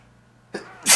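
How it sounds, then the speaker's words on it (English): A single person sneezes close up, a quick sharp intake followed by a loud explosive burst at the end, after near silence. "I'm going to sneeze in a second."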